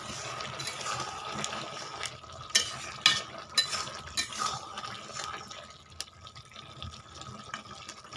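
Pumpkin and potato sautéing with spices in a pan, a soft steady sizzle with scraping stir strokes and a few louder clinks of a spoon against the metal, close and alone.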